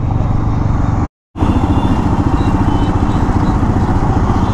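Motorcycle ridden along a city road in Delhi, its engine humming steadily and loud close up with constant road and wind noise, broken by a momentary dropout.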